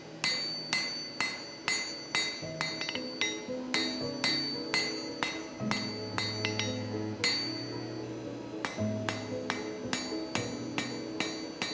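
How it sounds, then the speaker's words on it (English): A blacksmith hammers a steel bar while forging box jaw tongs, sharp ringing metallic blows landing in a quick, steady rhythm, close and clear, with brief pauses between bursts. "Clearly, this is a lot of hammering"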